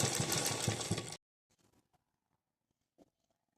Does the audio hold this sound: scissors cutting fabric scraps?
no